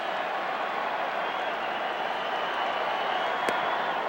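Raucous, bedlam-level crowd at the 1987 World Series, Game 2 between the St. Louis Cardinals and Minnesota Twins, roaring continuously as a dense, steady wall of cheering throughout, with one brief sharp peak near the end.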